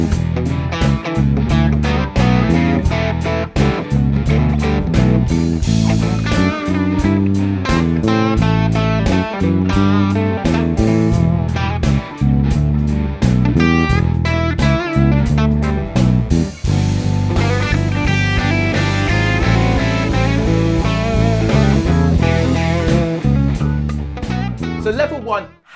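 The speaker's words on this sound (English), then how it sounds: "I want to show you level one so you can hear what the simplest version of this bass line sounds" Simple blues bass line on bass guitar, played with other instruments in a full band mix. It holds steady and loud for the whole stretch, with a rhythmic low groove and sharp regular hits throughout.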